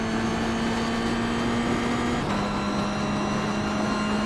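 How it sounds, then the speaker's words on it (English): A badly damaged race car in a racing video game drags along at speed, a steady engine drone with a sustained tonal whine that drops in pitch partway through, with constant grinding noise beneath. "And you can hear in the headphones, car's dragging."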